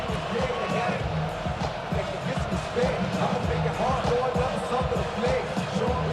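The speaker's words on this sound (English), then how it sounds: "This crowd into it now as we get to third down." A stadium crowd roars and cheers steadily in Madden 26 American football as a third down approaches late in a playoff game, with a dense wall of noise and scattered thumps throughout.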